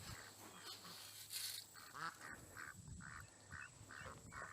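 Ducks quack on a rural homestead, a run of repeated nasal calls, some overlapping, close by and fairly loud against quiet background noise.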